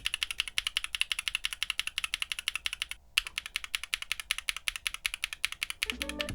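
A mechanical keyboard with Azure Dragon V2 switches in a palm bottom housing clacks in a quick, steady run of crisp keystrokes, close up, with one brief pause partway through.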